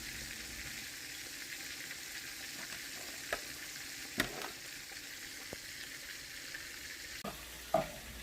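Catfish fillets frying in hot oil in an uncrowded pan make a steady, quiet sizzle, broken by a few sharp clicks and pops. No one speaks.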